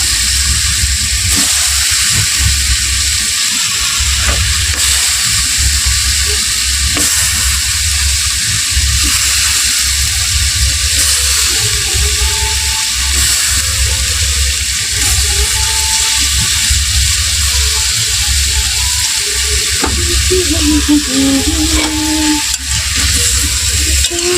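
Potatoes frying in a hot pan, a loud continuous sizzle and hiss with occasional stirring scrapes throughout, no voices.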